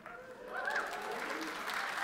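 A modest audience applauds at a university commencement address, light scattered clapping that swells after a brief pause and carries on steadily, with a voice faintly heard beneath it.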